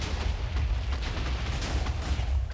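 Matter cannon fire in a Minecraft modpack game, a steady run of dense, rumbling low booms and bursts that fills the whole stretch, loud and close with no talk over it.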